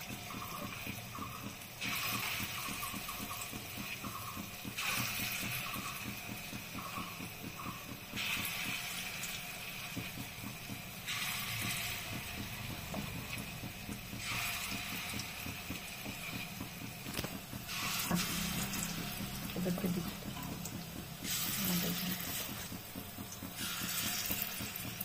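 Lentil vadas fry in hot ghee and oil with a continuous, dense bubbling crackle, swelling in repeated loud bursts every few seconds as more fritters drop in.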